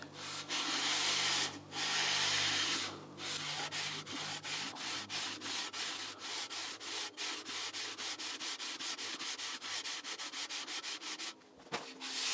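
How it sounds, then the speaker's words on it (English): Steady, rhythmic rasping of sandpaper scrubbed back and forth in long strokes on an old rusty engine block, close and continuous, with a few short pauses. "And then we're just going to start sanding it."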